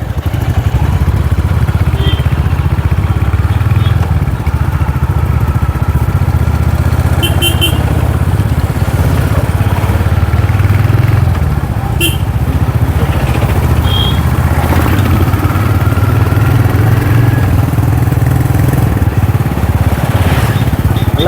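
A Royal Enfield Hunter 350 motorcycle rides along with a steady, continuous engine drone and road rumble throughout, loud and close, with no talking.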